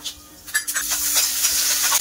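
Cumin seeds and curry leaves sizzle in hot oil in a wok while rava vada batter is prepared, a steady close hiss that swells after a few sharp crackles and stays loud to the end.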